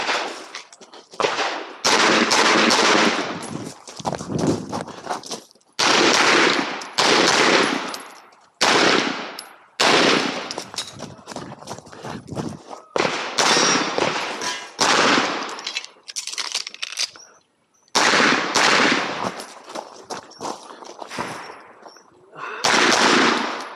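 Rapid pistol shots from a Phoenix Trinity H-Tac at an outdoor IDPA match, loud sharp reports in quick strings separated by short pauses, with no talk over them.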